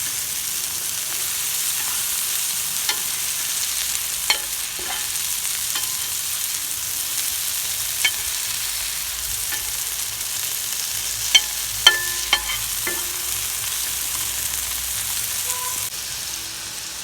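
Bitter gourd pieces fry in oil with a steady low sizzle throughout, while a few soft utensil clicks and scrapes mark them being turned now and then.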